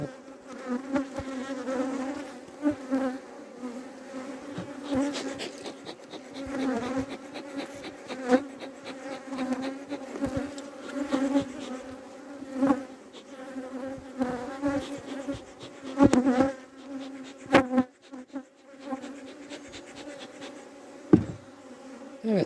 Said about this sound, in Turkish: arılar biraz hava, havalandılar.